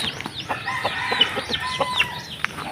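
Pet chickens cluck repeatedly near their coop, a busy overlapping run of short calls and chirps from several birds close by, with no talk.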